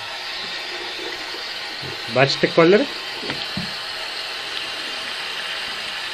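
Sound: liquid running from a tap

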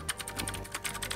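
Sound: computer keyboard key clicks

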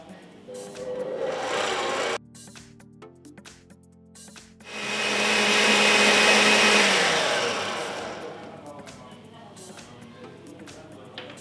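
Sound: electric mixer beating cake batter

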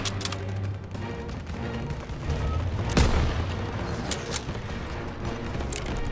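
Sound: gunfire in street battle, from video game Call of Duty WWII

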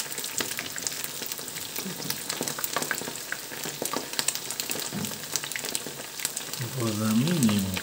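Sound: breaded onion rings frying in a pan

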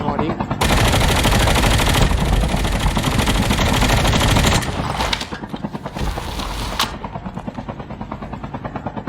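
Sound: gunfire in video game Call of Duty Mobile

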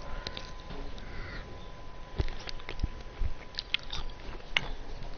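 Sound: person chewing and eating food

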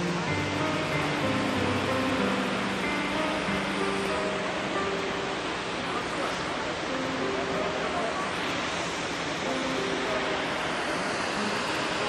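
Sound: large waterfall in Norwegian fjord

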